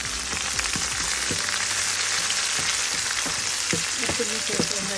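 Small onions and green chillies sizzle in a pan for mango rice, a dense, loud, continuous frying hiss with scattered pops and occasional light utensil clicks, close by and unbroken.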